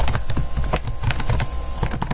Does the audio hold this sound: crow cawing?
no